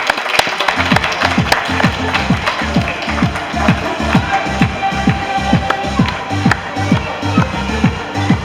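A circus audience applauds Serge the llama from Peru, with steady rhythmic clapping throughout, loud and close, set against a busy hall background.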